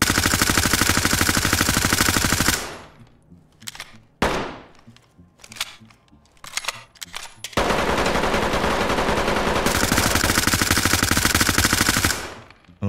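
MP5 submachine gun firing in the tactical shooter Ready or Not: long sustained automatic bursts, loud and close, broken by a gap of short scattered shots and clicks, then another extended burst.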